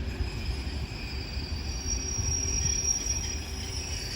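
Steady low rumble of a test train at Deal rolling on rails and coming to a stop, with a thin high squeal from the wheels running through the whole stretch.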